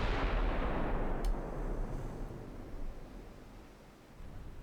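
Naval artillery shells from battleship guns rumble in as a video-game barrage, a loud, dense broadband roar that gradually fades, with a brief sharp crack early on.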